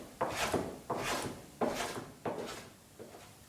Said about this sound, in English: So I'm going to use my plane to get this done.